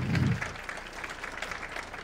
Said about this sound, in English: I would like you guys to give her a nice round of applause.